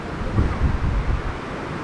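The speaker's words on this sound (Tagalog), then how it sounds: "Lakas ang hangin." Strong wind buffets the microphone on a motorcycle ride in Dingalan, Aurora, in a steady low roar, with gusts swelling and fading over a constant rush.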